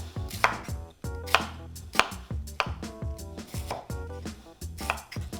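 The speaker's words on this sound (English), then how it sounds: "now I'm just gonna use my knife and cut it as thinly as I can" A knife thinly shaves cabbage on a cutting board for a tuna tostada, giving a steady run of crisp, close chopping strokes roughly every half second, with no talking.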